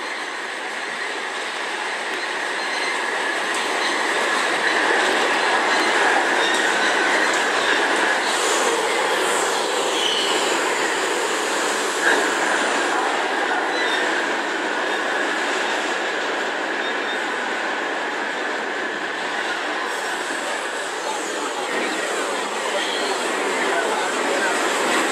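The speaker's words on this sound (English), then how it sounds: "Our train is now arriving." In the Trainz video game, R46 and R32 subway cars pull into DeKalb Ave station with a long, steady, loud roar and rumble, with faint wheel squeals and rail clatter throughout.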